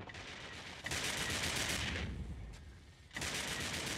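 Ship weapons fire in an Eve Online fleet battle as Abaddon battleships take hits: dense, steady crackling volleys with a brief lull midway before the barrage resumes at full strength.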